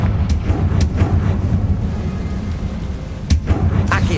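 A Confringo blasting spell goes off in Hogwarts Legacy, with sharp blasts striking several times over a constant low rumble of game sound, loud and close.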